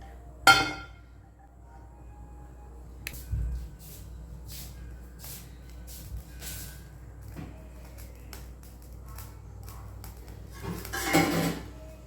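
A cooking pan set down on a home kitchen stove before making chicken poriyal, with a sharp metallic clank, scattered lighter clinks and handling knocks, and another clattering burst later amid quiet room noise.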